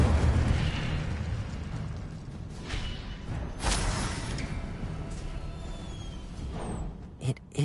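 Incendio fire spell cast in the Hogwarts video game, a loud fiery burst and whooshing roar that opens strongly, then swells again mid-way before fading, with no talk over it.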